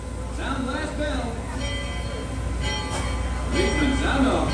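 A riverboat bell rings at Magic Kingdom over a steady low engine hum, with a few clear bell strokes standing out amid crowd murmur and nearby talk.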